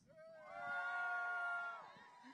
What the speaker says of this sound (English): Now cheer for me if you are from the West.